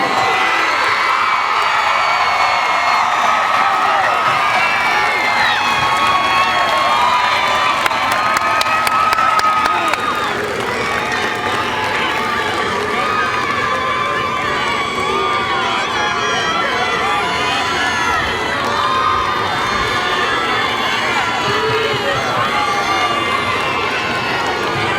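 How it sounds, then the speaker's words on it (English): A graduating class at a high school commencement stands and cheers for families in the stands, producing loud, sustained crowd roar with whoops, shouts and scattered clapping that eases slightly midway and then continues. "let's stand up as a class, turn around, and give them a round of applause"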